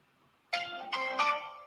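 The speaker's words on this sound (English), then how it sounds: "I'm going to call, and we'll talk to them." Telephone call being dialed: three short rising electronic tones chime one after another, moderately quiet, with no talk.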